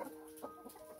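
Chickens cluck softly and intermittently in a small backyard flock, with short overlapping calls rising and falling.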